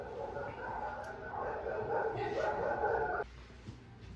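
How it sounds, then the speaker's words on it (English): A dog barks repeatedly at a delivery driver, loud and close for about three seconds, then stops abruptly, leaving quieter room sound. "the dog started barking at the FedEx guy"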